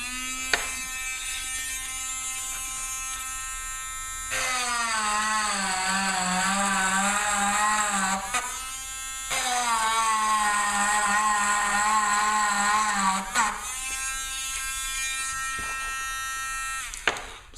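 An inexpensive electric engraver buzzes steadily while etching a signature into glass, its pitch rising and dropping as the tip presses on the surface, in two long bursts with short pauses between, close and loud.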